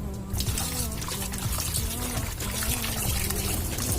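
Water pours steadily into a pressure cooker holding washed raw beef, a continuous close splashing trickle for several seconds with a faint hum underneath and no talking.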